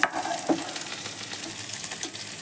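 Potatoes fry in a pan with salt and turmeric, giving a steady soft sizzle with a few light scrapes and stirring taps near the start and middle.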